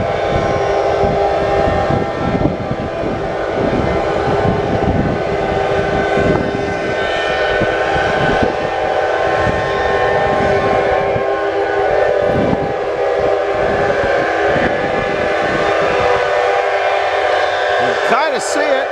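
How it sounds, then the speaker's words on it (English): Steam whistles blow at noon at a Maryland steam show: a loud, continuous whistle tone sustains throughout over rumbling machinery and crowd noise, with a brief higher whistle near the end. "At 12 o'clock they generally have the big whistle blow."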